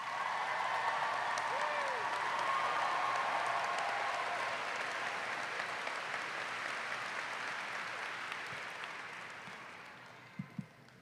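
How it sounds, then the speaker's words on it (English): High school graduation crowd clapping and cheering for the class of 2022: a broad, sustained wash of applause and distant cheers that slowly tapers off, with a couple of sharp knocks at the end. "I'd like you guys to clap and cheer for the class of 2022"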